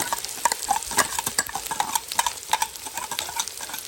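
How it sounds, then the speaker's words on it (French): Garlic frying in a pan is stirred, with repeated scraping and clinking strokes over a steady close sizzle, no voices. "Il mélange toujours le l'ail."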